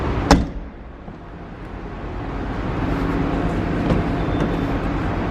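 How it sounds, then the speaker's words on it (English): The tailgate of a 2015 Subaru Forester 2.5i Premium opens with one sharp, close latch click, followed by a soft, steady rumble, with no talk. "Open up the tailgate"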